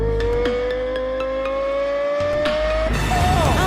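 Cartoon car braking to a stop outside a hospital gate: a rising engine drone with squeaky tire squeals, then a final skid and settling whir, loud and close.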